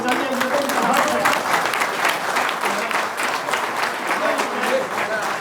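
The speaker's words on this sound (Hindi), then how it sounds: "इनके लिए जोरदार ताली बजाइए" Audience applause at a Sah community ceremony in Nainital, a loud, sustained wash of many hands clapping close by, with voices faintly mixed in beneath.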